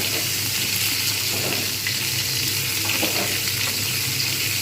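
Potatoes fry in a pan alongside pumpkin and pointed gourd, a loud, dense and unbroken sizzle heard close up with no pauses.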